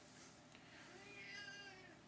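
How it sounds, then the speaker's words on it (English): A house cat gives a single soft, drawn-out meow, faint and fairly distant against a quiet indoor background, with no one talking. "that's just my cat"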